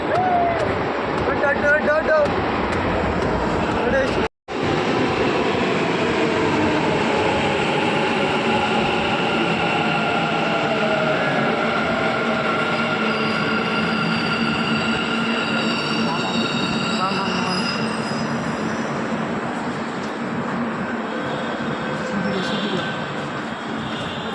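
A metro train arrives at a Bangalore station with a steady rumbling roar and rising whine, loud and close, continuing for over twenty seconds.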